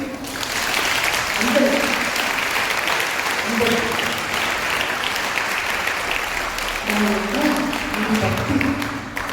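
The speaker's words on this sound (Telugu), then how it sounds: "దేవునికి క్లాప్స్ కొట్టండి" A congregation claps for God during a Lenten prayer service at St. Antony shrine in Kurnool. The clapping is steady and sustained, with voices talking and singing beneath it.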